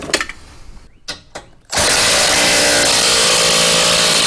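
A few short clicks and taps, then a power tool starts and runs loud and steady at close range, tightening a bolt on EAG rocker guards fitted to a 2004 Jeep Wrangler TJ.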